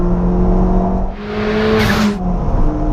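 A Ford Fiesta ST with a hybrid turbo revs hard, engine and exhaust rising in pitch then easing off, loud and close with a steady drone underneath.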